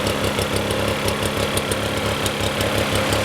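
A Toro GTS 120 21-inch lawn mower with a 2-cycle Suzuki engine runs steadily at idle, giving a close, continuous buzzing drone with a fast, even pulsing and slight knocking texture, without talk.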